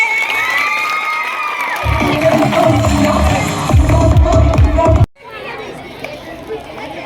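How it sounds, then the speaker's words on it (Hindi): At a school annual function, a crowd of students cheers and claps loudly for the whole Class 10 group, with shouting children and chatter, then a sudden cut into quieter crowd murmur. "पूरी कक्षा 10th के लिए जोरदार तालियां बजाइए।"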